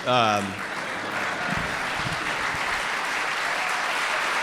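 Live audience at a public radio year-in-review event breaks into sustained applause, a dense, even clatter of many hands that follows a brief spoken phrase and carries on steadily to the end.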